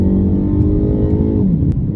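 A car engine pulling hard uphill on a UK mountain road at dawn, a loud steady drone heard close from inside, with the pitch dropping slightly near the end as the load shifts.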